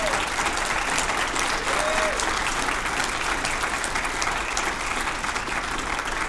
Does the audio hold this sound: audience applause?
yes